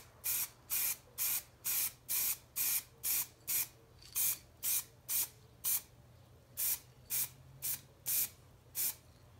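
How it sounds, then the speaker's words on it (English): Ebonizing lacquer is sprayed onto a wooden turned finial in about twenty short, evenly spaced hissing bursts from an aerosol can, close and clear over a faint low hum. "We'll go ahead and apply the ebonizing lacquer to the finial."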